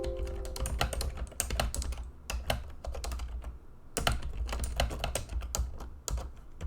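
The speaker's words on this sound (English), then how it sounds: "we're just going to type out a sentence real quick" A sentence is typed on a computer keyboard: close, crisp clusters of key clicks in quick irregular bursts, with short pauses between words and no talking.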